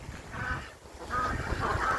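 Ducks calling from inside their pen, a few honking quacks close by in quick succession over a soft background.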